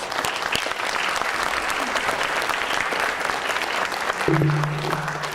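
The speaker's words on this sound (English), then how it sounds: "join me in giving our families a round of applause." An audience at a school awards ceremony claps steadily for students' families, a dense, even wash of applause that continues throughout, with a brief low tone near the end.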